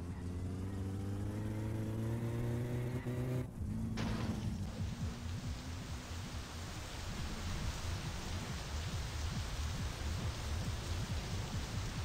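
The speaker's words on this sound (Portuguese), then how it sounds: "A chuva voltou, meus braços." Steady rain hisses down in the video game My Summer Car, a loud, even wash that swells in once a low engine drone cuts off a few seconds in, then continues alone to the end.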